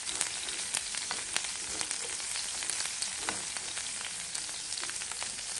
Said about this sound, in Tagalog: Igisa muna natin yung ating mga ricado guys